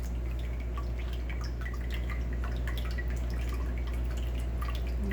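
Pressed jalapeno liquid drips steadily down beneath a press, a run of small close wet drips over a low constant hum, with no talk.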